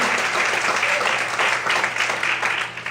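Congregation members applaud at an evening church service, a full, even clatter of many hands that thins slightly toward the end, no speech over it.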